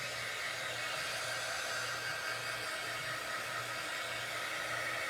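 A hair dryer blows steadily at close range to dry paint on a decoupage craft piece, making a constant loud airy whir with a low hum beneath it and no speech.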